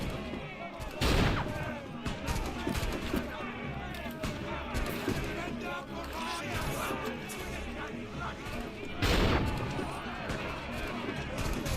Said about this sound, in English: I want to shoot him with my blunderbuss